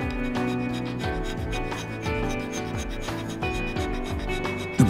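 A hand scraper works precision metal surfaces to thousandths of a millimetre in a machine-building workshop. Rhythmic rasping strokes repeat about once per second, close and clear, with tonal background music and no voices.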